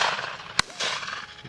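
One sharp shotgun report at a pheasant or partridge shoot, a single crack standing out against steady outdoor rustle and background noise.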